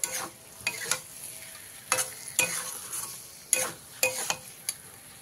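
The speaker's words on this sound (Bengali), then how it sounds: "এবারে আমি দিয়ে দিচ্ছি ভেজে রাখা আলু আর বেগুনগুলো, দিয়ে খুব ভালো করে মিশিয়ে দিতে হবে।" Fried potatoes and eggplant stirred into a simmering Bata fish curry in a pan, giving a series of scraping, clinking spoon strokes with irregular pauses over a faint sizzle, close up and moderately quiet.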